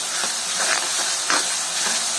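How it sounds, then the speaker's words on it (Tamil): Ginger garlic paste sautéing in hot oil for rice and toor dal kichdi gives a steady, close sizzle and hiss with faint stirring scrapes, no talking. "2 டேபிள் ஸ்பூன் போல் இஞ்சி பூண்டு பேஸ்ட்டு சேர்த்து வதக்கிக்கலாம்."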